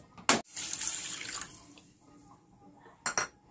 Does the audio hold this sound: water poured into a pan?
yes